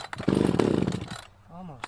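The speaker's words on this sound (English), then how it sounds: "So this is my Echo chainsaw" An Echo chainsaw engine sputters and coughs briefly during a pull start, loud and close, then fades to near quiet with a faint rising tone.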